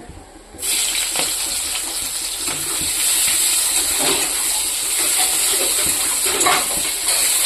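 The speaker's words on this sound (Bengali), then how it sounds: "এখন এই তেলে এখানে পেঁয়াজ দিয়ে দেব" Onion dropped into hot oil after potatoes were fried in it, a loud steady sizzling hiss that bursts in suddenly and keeps crackling and spitting without letup, with no talk.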